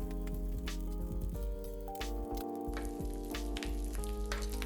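Three slices of applewood smoked bacon frying in a pan, a dense steady sizzle and crackle with popping spatters, close and continuous throughout.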